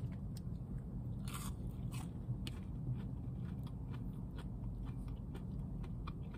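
Biting into Burger King mozzarella sticks, skinny breaded cheese sticks, with soft close crunches and chewing over a steady low background hum.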